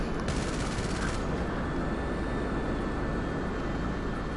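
A Hydra jet swoops in during GTA 5, its engine roaring steadily throughout while a brief burst of rapid gunfire rattles early on, with no talking.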